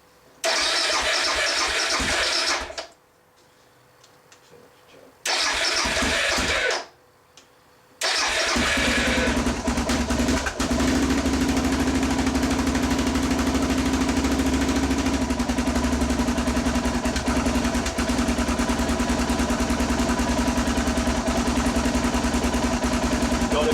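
A Suzuki DR650 motorcycle engine cranks over twice with gaps in between, then catches on the third try and settles into a loud, steady, close idle that runs to the end.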